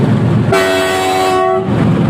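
The Saurashtra Mail train stands held in a loop line on a single-track route; a loud sustained horn blast rings out for about a second over a constant heavy rumble nearby.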